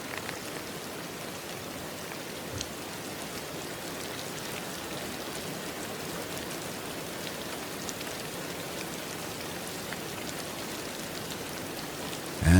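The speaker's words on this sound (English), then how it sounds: "And so the rain continues, as it always has, steady and unhurried" Steady, unhurried rain falls continuously as a dense, even wash of drops with no pauses, close and moderately loud, with a brief louder patter at the very end.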